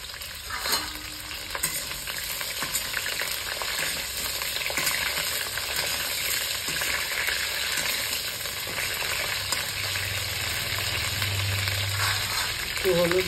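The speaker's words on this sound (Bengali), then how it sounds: "আলু ফুলকপি একসঙ্গে আমি ভেজে নেবো" Potato and cauliflower pieces fry together in mustard oil in a rural kitchen, a steady close sizzle with occasional stirring scrapes throughout.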